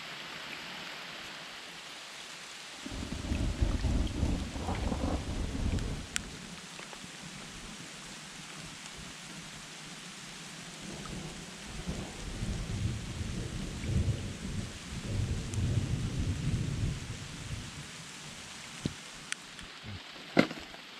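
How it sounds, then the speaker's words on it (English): Steady rain hisses throughout as rolling thunder rumbles twice, loud and low, at a prospecting creek in Arizona, with a few sharp drips and clicks near the end. "It's raining."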